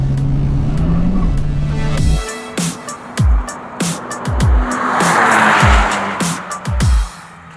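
A race car at the Hyundai N Festival racetrack accelerates. A steady engine drone at the start gives way to a series of sharp, loud revving bursts and shift-like surges close by, with tire noise between them.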